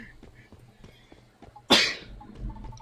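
One sharp, loud sneeze bursts out close up against a quiet background with faint game sounds.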